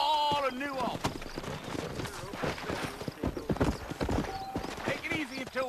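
Horses' hooves clip-clop in an irregular quick rhythm through a video-game town in Red Dead Redemption, with a horse whinnying near the start and at the end and people talking over the hoofbeats.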